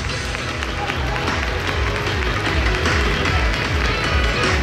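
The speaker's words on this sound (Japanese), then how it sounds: "今一度大きな拍手をお願いいたします。" A crowd at the second ASOBE award announcement, an outdoor festival held at Meiko's Fes venue, claps steadily and loudly throughout as a dense, continuous wash of applause mixed with crowd noise.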